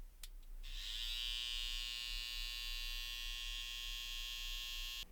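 A Stylecraft Instinct electric hair trimmer buzzes close and loud with a high, steady whine, switching on after a couple of brief clicks and running continuously to the end.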